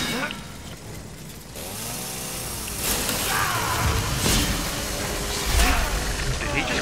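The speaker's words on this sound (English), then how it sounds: "Is that a chainsaw? Can I have it? It says I can. Oh, I got a chainsaw!" A video game chainsaw revs and whines in rising, falling engine sweeps, loud and close, with voices mixed in under the buzzing.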